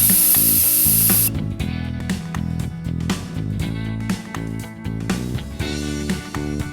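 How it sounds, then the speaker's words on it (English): Rust-Oleum Flat Black primer sprayed onto a Matchbox diecast tractor body as one loud, close hiss lasting just over a second, then cut off as music takes over. "Then I use some Rust-Oleum Flat Black as a primer."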